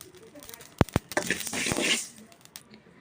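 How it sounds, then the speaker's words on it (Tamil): Mustard seeds and fenugreek roast in a hot pan for a veldt grape pickle, giving a couple of sharp pops followed by a fizzy, crackling sizzle that swells and then fades. "நல்லா வெடிக்கிற மாதிரி வறுத்துக்கோங்க"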